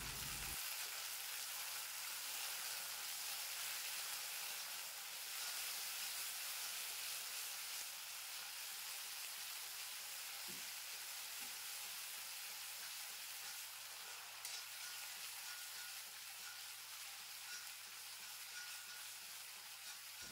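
Chopped onions fried to golden brown sizzle steadily in a pan with spoonfuls of tomato sauce for prawn manchurian, a continuous close hiss with one small clatter midway and no talking.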